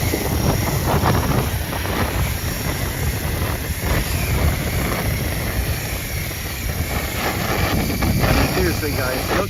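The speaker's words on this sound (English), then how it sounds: "Seriously guys, look at that wind." Strong gusty wind buffets the microphone outdoors beside a 500-class EC 135 RC model helicopter, a dense steady rumble with roaring swells, and a person talks over it.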